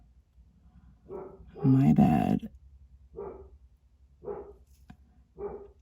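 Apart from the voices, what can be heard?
dog barking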